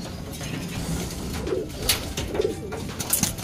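Racing pigeons coo softly above a loft, two or three low rounded coos rising from a faint outdoor background, with a few light clicks and flutters, no talking.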